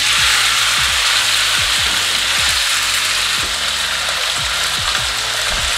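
Meat sears in olive oil in a pot with a loud, continuous sizzle, while a utensil scrapes and stirs in a regular rhythm, roughly once or twice per second, close up.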